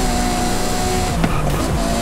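A 1300-horsepower Ferrari FXX K racing in Forza Horizon 5, its engine holding a loud steady high-pitched whine with a brief gear-change dip, close and constant, with no voices.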